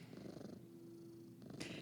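A cat purrs steadily and softly up close, a continuous low rumbling with a faint breathy edge, heard alone without talk.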